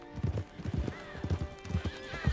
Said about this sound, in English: Wild horses. Farm could use wild horses.